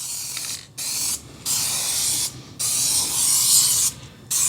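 Clear coat being sprayed onto the rims of a 2008 Ford F-150: loud, steady hissing bursts from a spray gun, four long passes separated by brief pauses, close by with no talking.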